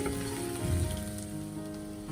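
Vegetables sizzle in a pan with turmeric and black pepper, a steady crackling hiss with a brief stir-like bump partway through.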